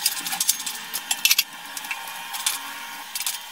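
Chopped onion, capsicum and green chillies stirred in a pan on high flame for chilli chicken: quick clattering spatula scrapes and taps with a light fizzing hiss, close and uneven.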